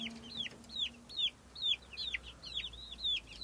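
Baby chickens give a run of short, high peeps, about eight evenly spaced calls, fairly close but soft over a quiet low hum.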